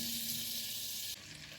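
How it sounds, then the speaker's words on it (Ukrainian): Chicken sizzles steadily in a hot pan over medium heat, a close, even frying hiss that drops slightly near the end. "Викладаю на сковорідку і обсмажую на середньому вогні до золотистої скоринки."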